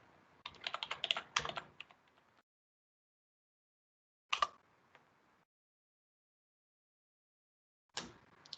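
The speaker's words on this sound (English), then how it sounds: "I'm going to type in Kubernetes." Keys on a computer keyboard are typed in a quick, close burst of clacks, then a lone key press, then another single press after silence, as a search term is entered during a cloud portal demo.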